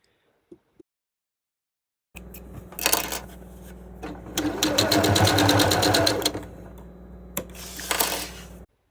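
A sewing machine stitches a fabric seam for a flying geese quilt block, starting after a couple of faint clicks and then running in short close bursts of rapid rhythmic needle clatter, pausing briefly between them.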